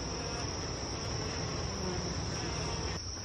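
Honeybees buzz around their hive in a steady, dense, high-pitched drone that holds evenly throughout, with no voices.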